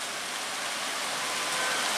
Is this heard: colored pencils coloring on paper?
no